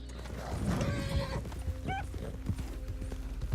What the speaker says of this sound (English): Oh no, my horse is low on energy and...